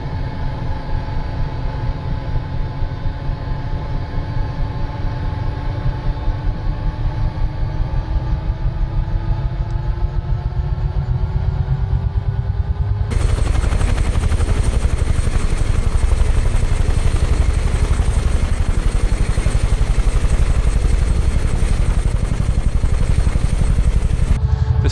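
UH-1H Huey helicopter in Microsoft Flight Simulator, set in the Philippines, spooling up during engine start: a rising turbine whine over a low rumble, then a sudden louder, fuller roar that holds steady and close.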